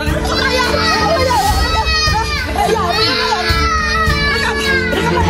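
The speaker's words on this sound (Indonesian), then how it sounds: "terdengar tangisan anak kecil" A small child cries during a live social-media broadcast in Kota Baru, Jambi, the wails rising in pitch against busy background chatter and other voices throughout.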